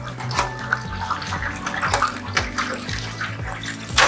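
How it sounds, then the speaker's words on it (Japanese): Tempura of young angelica tree shoots frying in hot oil at around 180 degrees, a steady close bubbling hiss with some clinks and a low hum underneath. "揚げていきます"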